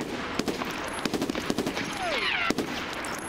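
Bursts of suppressing gunfire in the Tarkov mod SPT with realism settings: a string of sharp, loud shots in uneven groups, with a rising whistle-like sweep between them and no talking.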